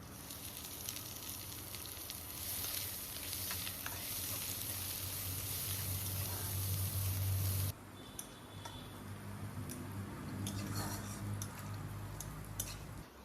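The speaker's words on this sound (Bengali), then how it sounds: "রসুন আর পেঁয়াজ সুন্দর করে ভেজে নিয়েছি" Garlic and chopped onion frying in hot oil give a loud, continuous close sizzle with crackling throughout and no talking. The hiss drops partway through and then carries on more softly.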